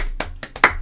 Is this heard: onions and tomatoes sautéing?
no